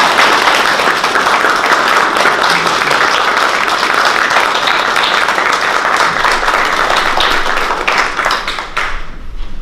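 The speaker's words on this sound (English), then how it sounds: "And I think you all deserve a round of applause." Loud sustained applause from the audience at a city council meeting in Hermiston, dense steady clapping filling the room for nearly ten seconds before tapering at the very end.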